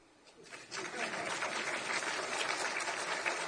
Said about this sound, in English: Time for you to clap.